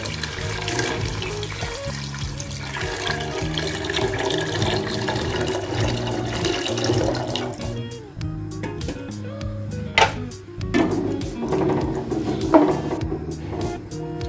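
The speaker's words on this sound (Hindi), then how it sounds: "अब इसमें हम पानी भी शामिल कर देंगे" Water runs steadily for several seconds, with clinks and knocks of cookware partway through, as water is poured into a pot of beef yakhni pulao.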